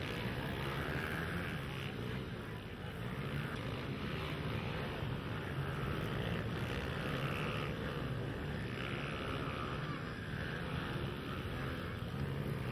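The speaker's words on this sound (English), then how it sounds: "we've got grown-up guys here on bikes up to 100 cc's. Some 85, some 100s." Small dirt bikes up to 100cc, some 85cc, race in a county fair scramble, their engines blending into a steady, loud, continuous drone with a rising and falling whine from several machines at once.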